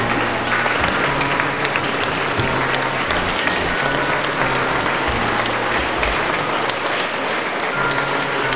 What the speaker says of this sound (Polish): Oklaskami.